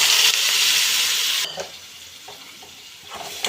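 Chopped banana stem frying and being stirred in a pan, a loud steady sizzle that cuts off suddenly, leaving quieter scraping and stirring sounds.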